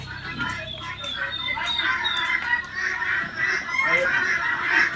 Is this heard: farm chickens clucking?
yes